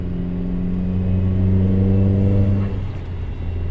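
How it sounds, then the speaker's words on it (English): A Chevy Sonic's engine and new exhaust rumble steadily with a deep drone, rising slightly in revs before easing off, heard close with no talking. "that new exhaust sounds amazing"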